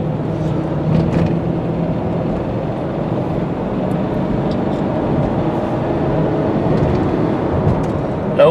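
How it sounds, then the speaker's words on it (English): A 2004 Ford Expedition XLT 4x4 accelerating on a road, its engine and road noise forming a steady, continuous drone heard from inside the cabin, with no talk over it. "let me take it back up on the road. And again, I'll show you, give a little juice this time"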